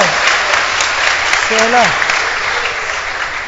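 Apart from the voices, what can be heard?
audience applause for a rabbi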